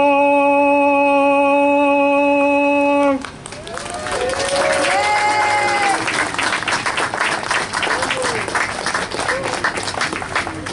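Crowd applause erupts at a community solidarity rally against antisemitism in West Hempstead, following a held sung note that ends abruptly; dense clapping and cheering continues steadily with voices mixed in.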